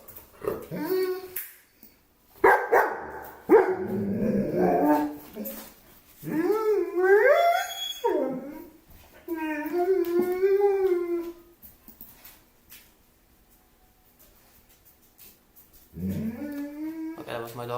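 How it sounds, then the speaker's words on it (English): A dog howls and whines in long, wavering, rising and falling cries, loud and close, in several drawn-out bursts separated by quiet pauses. "that was my dog again showing that he likes me"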